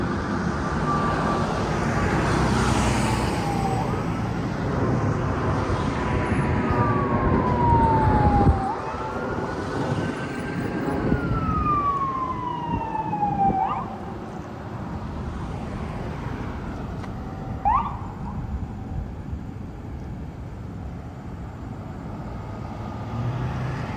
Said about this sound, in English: I hear some more sirens